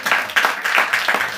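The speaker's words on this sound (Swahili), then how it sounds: "Pigia Yesu makofi mazuri." A church congregation claps for Jesus, a bright burst of hand claps coming in quick uneven waves, fairly close and lively, with no speech.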